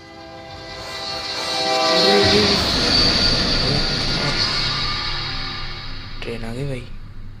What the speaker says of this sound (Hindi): ट्रेन आ गई भाई।